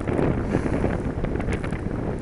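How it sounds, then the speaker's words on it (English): Strong wind roaring steadily during a snowstorm at Grand Bend, buffeting the microphone in a dense, continuous rush. "Here comes the wind."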